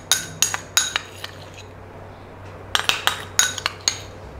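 A metal spoon clinks sharply against a bowl several times in two quick clusters while butter is mixed into banana puree for eggless pancakes, bright and close with a short quiet gap between bursts.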